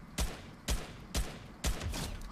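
Fortnite gunfire on Nintendo Switch: four sharp, evenly spaced shots, each with a short tail, fairly quiet and close.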